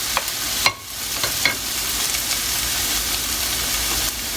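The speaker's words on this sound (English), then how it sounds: "The heat is on medium high. Wait for the onion to soften up a little bit." Onion frying in a pan over medium-high heat, giving a steady broadband sizzle with a few soft stirring clicks and scrapes near the start. No one talks.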